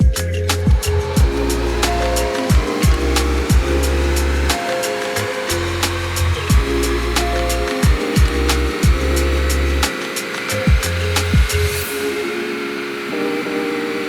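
Car fitted with Blizzak snow tires running on a dyno: loud droning engine and roller whine rising in pitch with repeated ramps and drops as gears change, punctuated by regular rhythmic ticks.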